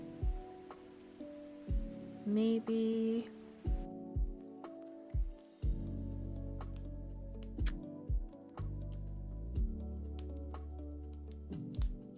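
Rain ambience from a relaxation sound app patters softly with scattered drips and taps, and a low tonal hum joins partway through. A voice speaks briefly at the start.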